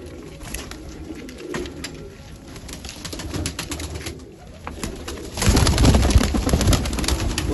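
Pet pigeons coo softly in a loft, with repeated low throaty calls throughout and a louder, busier stretch of cooing and rustling toward the end.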